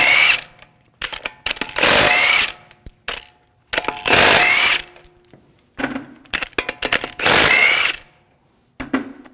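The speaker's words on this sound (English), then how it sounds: "take the lug bolts out." A power tool with a 19mm socket spins the front left wheel lug bolts off a 2001–2009 Volvo S60, three loud sustained bursts separated by short metallic clinks and rattles.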